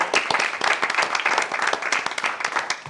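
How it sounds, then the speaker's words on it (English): Sustained applause from a city council meeting audience honoring a departing reporter: dense, steady clapping from many hands, fairly close and continuous throughout, with no speech over it. "let's give him a round of applause"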